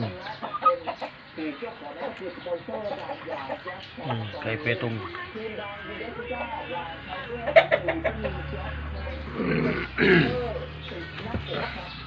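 Chickens cluck and chatter in short, uneven bursts at fairly close range, with people talking intermittently over them.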